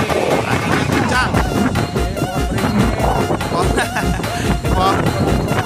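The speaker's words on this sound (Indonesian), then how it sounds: "Ini anginnya cukup kencang masih." Strong wind blowing straight into the microphone at an outdoor roadside spot on a steep hill in Menggala, Lampung, a constant rough rumble and buffeting under ongoing talking.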